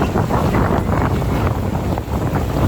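A boat moving across the Poovar backwaters in Kerala, a steady broad rush of water and wind buffeting that holds close and loud throughout, with no voices.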